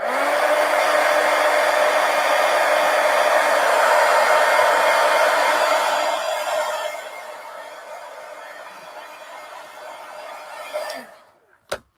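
A hair dryer blows on fresh Posca paint marker ink on a coloring page: a loud, steady, close whoosh for about six seconds, then a softer, lower setting before it clicks off.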